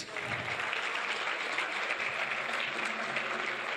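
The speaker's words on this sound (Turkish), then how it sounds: "Lütfen daha büyük alkış." Sustained applause from an audience at a 2018 business awards gala ceremony, a steady dense wash of clapping throughout with faint voices mixed in.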